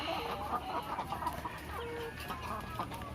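Laying hens on an egg farm cluck and murmur in a continuous, overlapping chorus, with occasional sharper calls standing out from the steady flock noise at moderate volume.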